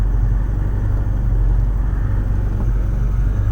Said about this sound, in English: I can already hear the clutch spinning